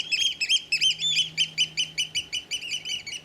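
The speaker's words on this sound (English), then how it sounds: "I was woken up by the birds as well. You can probably hear them." Birds chirp at dawn at a wild camp on the Solway coast, a steady run of bright, repeated tweets sounding close and clear, with no voices.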